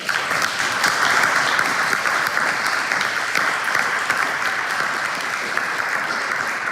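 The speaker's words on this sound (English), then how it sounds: "once again, a very big round of applause." Steady, dense clapping from a seminar audience fills the room at an even level from start to finish, with no voices standing out.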